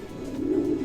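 A racing pigeon coos softly and steadily, a low rolling murmur close by with faint background hiss.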